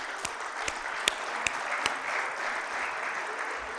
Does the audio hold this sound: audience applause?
yes